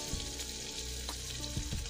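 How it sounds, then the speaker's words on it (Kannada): Curry leaves, chopped coriander and three green chilies dropped into a cumin and mustard seed tempering, giving a short close sizzle of hot oil with a few sharp crackles. "ಜೀರಿಗೆ ಸಾಸಿವೆ ಚಟಪಟ ಸಿಡಿದ ಮೇಲೆ ಕರಿಬೇವಿನ ಸೊಪ್ಪು, ಕೊತ್ತಂಬರಿ ಸೊಪ್ಪು, ಹಸಿಮೆಣಸಿನ್ಕಾಯಿ 3 ಹಾಕ್ತಾ ಇದ್ದೀನಿ"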